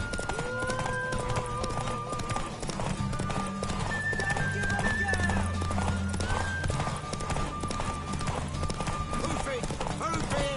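Hooves clatter in a fast galloping rhythm, close and continuous, with a horse whinnying and a few distant voices in the mix, from The Witcher 3 on PS5.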